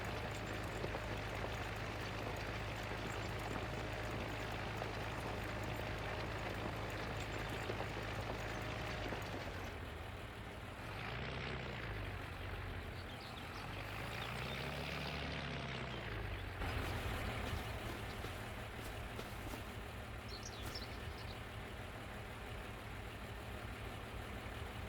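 An oversized tractor engine in Farming Simulator 2025 drones at a steady low rumble throughout, its pitch dipping and rising in two sweeps midway as the load changes, with no talking.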